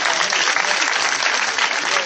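A church congregation applauding to acclaim Jesus, dense loud clapping from a crowd of many hands, steady and close, with cheering voices mixed in.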